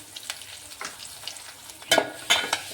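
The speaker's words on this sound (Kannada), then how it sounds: "ಉಪ್ಪು ಮತ್ತು ಅರಿಶಿಣ ಹಾಕ್ಕೊಂಡು ಚೆನ್ನಾಗಿ ನಾನಿಲ್ಲಿ ಫ್ರೈ ಮಾಡ್ಕೊಳಕತ್ತೀನಿ" Greens fry in a pan with salt and turmeric, giving a low, patchy sizzle broken by a few louder scraping stirs near the end; nobody talks.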